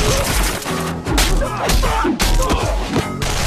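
Gunfire effects in a film edit, dense bursts of shots with heavy thuds and crashing impacts, loud and continuous with brief gaps, layered over music and effects in a chaotic action scene.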